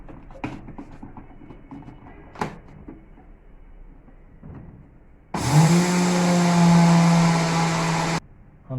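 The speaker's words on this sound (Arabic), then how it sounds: "بعد ما عبينا السمسم هنضربهم مع بعض في الخلاط." A kitchen blender grinds roasted sesame seeds for homemade tahini, switching on abruptly to a loud, steady motor whir that runs for about three seconds before stopping, following some quieter handling clatter.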